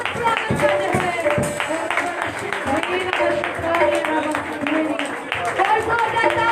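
A congregation at a Sunday prayer meeting claps loudly in a steady rhythm, the sharp beats repeating under a leader's amplified voice speaking and chanting over the top.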